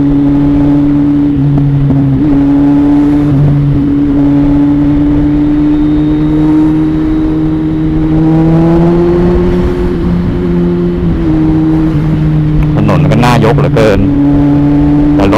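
A Kawasaki Z800 motorcycle rides through slow traffic, its engine a loud, continuous close drone with a steady tone that rises and falls slightly in pitch, and a short burst of rattling near the end.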